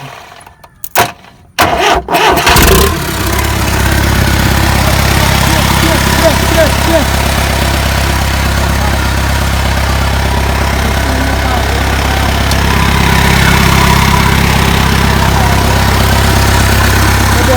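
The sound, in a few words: Swaraj Mazda truck engine cold starting after six years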